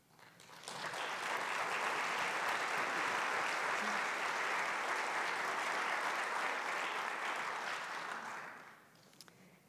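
A university winter convocation audience applauds steadily, rising quickly into dense clapping that holds loud and even for about seven seconds before tapering off, with no voices over it.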